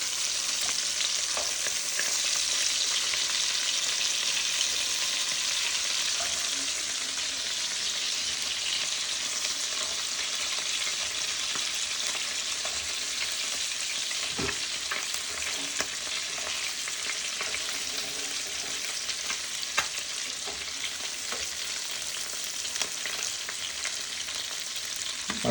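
Butterfly shrimp fry in butter in a pan with a continuous, even sizzle and occasional small pops and taps as they are turned; no voices.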